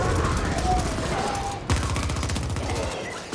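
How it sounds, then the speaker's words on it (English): Rapid automatic gunfire blasts at robots in the video game The Ascent, a dense, loud stream of shots with a brief break midway before firing resumes. "Stop shooting the robots!"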